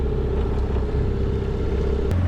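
An old knockoff Yamaha outboard motor runs at a steady idle, a loud close throbbing rumble with a slight shift in pitch near the end.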